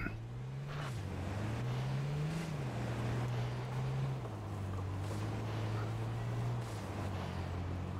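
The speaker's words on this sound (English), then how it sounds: "they'll hear my engine and hide" A vehicle engine in a battle royale video game on a mountain drones steadily throughout, its pitch stepping up and down as the throttle shifts, with faint game sounds in the background.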